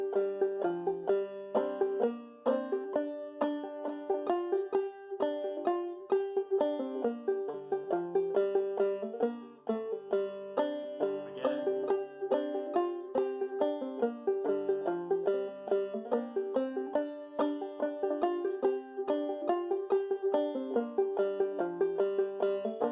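A banjo plays the first A part of the old-time tune Pretty Little Dog in drop-thumb style, a steady stream of bright plucked notes at an even rhythm, close and solo with no talking.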